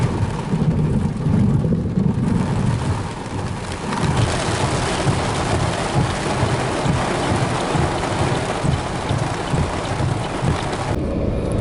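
A severe thunderstorm near Slippery Rock pours steady heavy rain with deep rolling thunder rumbling underneath, loud and continuous throughout.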